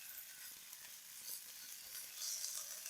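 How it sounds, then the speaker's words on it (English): Ground beef sizzles steadily in a very hot pan, a continuous bright hiss that swells slightly toward the end, with no talking over it. "So you can sort of hear that sizzle."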